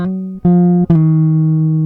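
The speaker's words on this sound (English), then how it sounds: "this is just the raw sound of the guitar" Dry, unprocessed electric guitar recorded straight through an audio interface: three plucked notes in quick succession, each clear and sustained, close and loud, alone.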